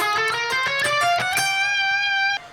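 Fast chromatic guitar lick from a solo, played with economy picking in a repeating down-down-up pattern; a quick run of evenly spaced bright picked notes, close and clear, ringing alone before stopping abruptly.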